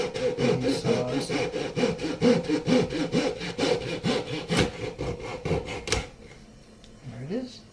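A hand saw rasps through wood for tenor ukulele bindings in quick, even back-and-forth strokes, close and loud, stopping abruptly near the end before a quiet moment and a faint voice.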